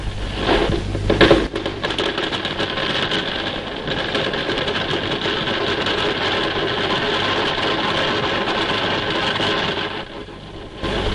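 A welding machine joins pipeline ends for Operation PLUTO, giving off a steady, loud mechanical buzz and drone that runs continuously for the whole stretch, dipping slightly near the end.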